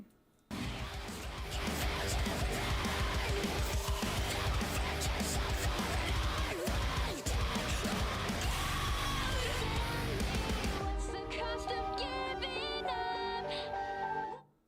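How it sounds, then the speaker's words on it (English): A loud, dense rock song with harsh screamed vocals over heavy instrumentation, dropping to a quieter, cleaner passage near the end. "Some full-throated screams at times."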